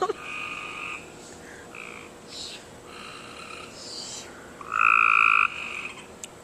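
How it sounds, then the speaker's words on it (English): A frog by a backyard pool croaks in repeated rasping bursts, the loudest call coming close near the end, with faint voices in the background. "Emily's scared of the frog. It's really loud."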